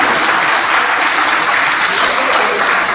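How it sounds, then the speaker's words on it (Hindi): Dense, steady clapping from an audience at a Teachers' Day programme at The Ideal Academy Chawinda, loud and continuous throughout with no break. "इनके लिए भरपूर तालियां होनी चाहिए।"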